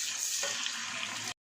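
Onions and tomatoes fry in a pan with bay leaves and cinnamon for a chicken curry, giving a steady, close hiss of sizzling for just over a second before it cuts off abruptly.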